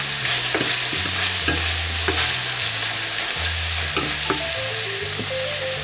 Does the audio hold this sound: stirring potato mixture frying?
yes